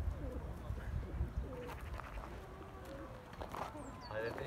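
Pigeons coo softly inside a box-style pigeon loft, low and somewhat distant, with someone talking over them.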